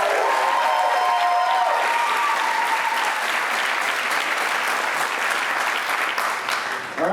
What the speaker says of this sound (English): Everyone, please make some noise for them.